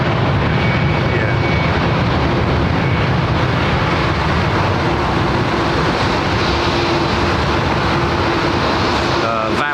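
A jet airliner taxis slowly onto the runway at London Heathrow, a loud continuous engine roar with a steady low hum that fills the whole stretch, with people talking over it.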